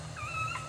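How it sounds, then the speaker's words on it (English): A dog whimpers while giving birth: a brief, thin, high whine that rises and wavers, quiet and close, over a low steady hum. "Dog. I hear it."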